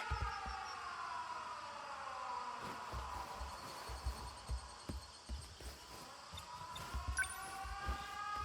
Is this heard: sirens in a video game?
yes